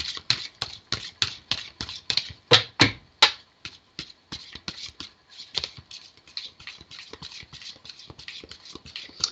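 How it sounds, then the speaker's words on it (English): Tarot cards being shuffled by hand, a close run of crisp rapid flicks and taps, louder bursts early then a softer, steady patter. "These need a real good shuffle."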